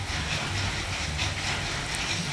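Masala gravy for a Bengali katla fish curry frying in a pan, a steady, close hiss and sizzle that runs unbroken with no talk over it.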